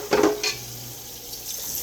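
A ham hock drops into a pot of water with a short wet splash and a clank against the pot, then a second softer knock, close by in a kitchen.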